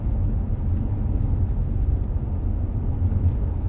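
A car rolling along a road through a national forest, a steady low rumble of engine and tire noise heard from inside, constant and fairly loud with no voices.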